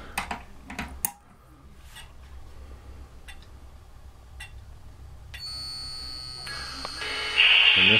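Model train sound units give a high electronic whine at startup that rises and settles after a few clicks and taps, growing into a steady buzzing tone near the end with no voices.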